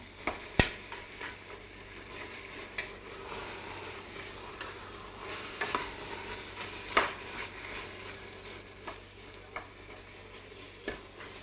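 Meat sautéing in a pot as the base for Cape Verdean cachupa, a soft continuous sizzle broken by scattered scraping stirs and metallic clinks of a utensil against the pot, with no voices.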